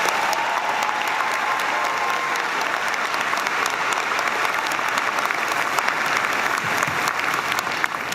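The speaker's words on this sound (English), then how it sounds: "Give them a huge round of applause." A large graduation crowd at George Washington University's Elliott School giving the graduates sustained applause, loud dense clapping with scattered cheers running evenly throughout.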